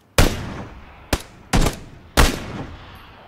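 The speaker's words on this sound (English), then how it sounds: "Paul, don't fucking shoot me in the head." Four loud, close gunshot blasts in a first-person shooter game, spaced irregularly with sharp attacks and short decaying tails, with no voices over them.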